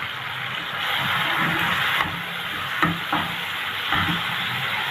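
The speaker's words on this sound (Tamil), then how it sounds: "இப்போது கைகளால் மசித்த தக்காளி பழத்தை சேர்த்துக்கிறேன். நல்லா வதக்கி விட்டுக்கலாம்." Mashed tomatoes sautéing in a pan for Tamil-style egg curry, a steady broad sizzle with soft stirring scrapes and occasional light knocks, close and moderately loud, no talking.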